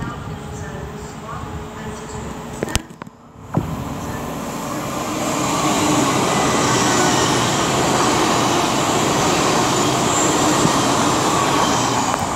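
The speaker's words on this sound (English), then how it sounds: "now approaching is going to be 800 208, working 1 Delta 12 from London King's Cross to Harrogate" An LNER Class 800 train, unit 800 208, rolls into Peterborough station on the East Coast Main Line. A broad rumble swells after a brief pause and holds steady and loud, with a voice talking over it.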